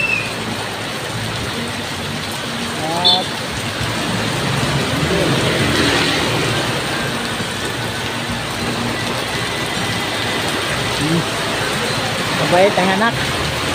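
Heavy rain pours with strong wind in a steady loud hiss, with passing engine noise, while someone talks over it throughout.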